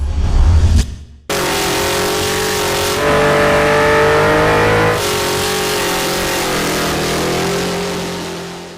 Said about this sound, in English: could we smoke a set of 37-inch boggers with the muscle truck?